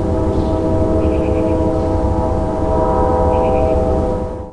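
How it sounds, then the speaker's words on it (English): A loud, steady engine drone with a deep rumbling hum, joined by a couple of short high beeping tones, like a locomotive idling nearby. "Locomotive."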